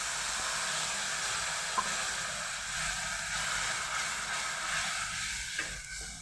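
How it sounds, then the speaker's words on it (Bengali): Spice paste for a fennel and eggplant curry fries in hot oil, giving a steady, close sizzling hiss that runs the whole time, with a couple of faint stirring clicks and no talking. "এবার একটু মশলাটাকে ভেজে নিলাম"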